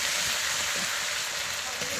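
Meat sautéing in a pan for kosha, a steady close sizzle and crackle with soft stirring scrapes underneath, continuous for the whole moment.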